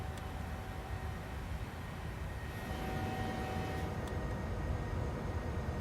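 Jet engine roar of a PMDG 737-800 departing in Microsoft Flight Simulator, a steady, loud, broadband rumble that swells slightly as the climb continues, with no talk over it.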